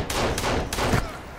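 Pistol shots in Sons of the Forest, three quick loud cracks about a third of a second apart, each with a short ringing tail, close and alone with no talk.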